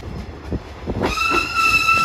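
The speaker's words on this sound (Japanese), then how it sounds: "山瀬駅周辺普通列車1200系普通機動車です。" A JR Shikoku 1200 series diesel local train near Yamase Station rumbles past with a few rhythmic wheel thumps, then a steady tonal whine rises from the railcar up close.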